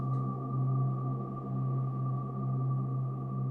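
A sustained low bass guitar note through a Starlab reverb pedal rings out with a long, slowly swelling reverb tail, steady and smooth, gently pulsing as it decays.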